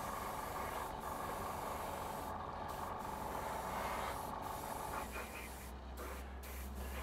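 An airbrush sprays a final gloss coat onto a Revell 1/48 Junkers Ju 88 A-4 scale model, giving a steady, close hiss that runs for the whole stretch and eases slightly near the end.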